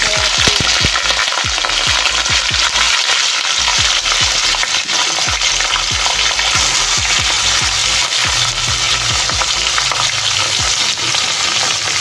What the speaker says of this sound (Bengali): এবার দেবো কুচিয়ে রাখা পেঁয়াজ